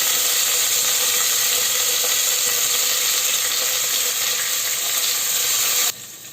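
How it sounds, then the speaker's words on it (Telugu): Peas and onions frying in a pan, a steady close hiss and sizzle that drops away abruptly near the end. "సో బఠానీ వేసిన వెంటనే ఇవి డ్రై ఫ్రూట్స్ కూడా వేసేసుకుందాం. సో అంతా బాగా ఫ్రై చేసుకోవాలి."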